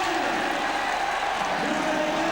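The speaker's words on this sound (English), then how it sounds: "Monjos is really winding the crowd up to shout on the French squad" Crowd at the Bercy velodrome in 1995 roaring on the French team pursuit squad, a steady, loud wash of cheering and shouting with no break.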